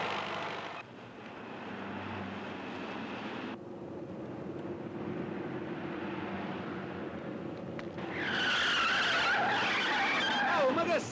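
A car drives along with a steady engine rumble and road noise, then its tires break into a loud, sustained skid squeal for the last few seconds.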